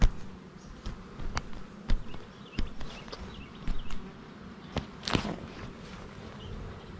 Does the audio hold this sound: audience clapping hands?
no